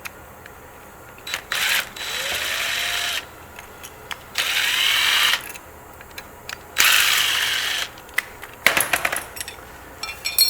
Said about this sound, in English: Now we'll remove the motor mounting plate with a 4 hex wrench.